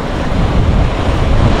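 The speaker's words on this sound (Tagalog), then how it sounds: "Kasi sobrang lakas ng alon doon." Strong ocean waves surge and crash on a Batangas shore, a loud, continuous roar of surf blended with gusty wind buffeting the microphone, with no voices.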